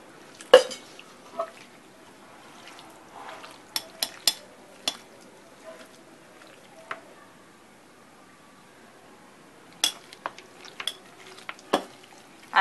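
Chicken being stirred and mixed with masala, ginger-garlic-chili paste and turmeric in a metal pot, village-style cooking: scattered scraping clinks and soft stirring scrapes, sparse and close, with quiet gaps between.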